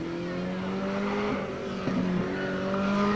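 A stock race car takes a victory lap at Monadnock Speedway during 1993 weekly racing, its engine droning steadily with shifting tonal whine and a slight rise near the end, heard from trackside.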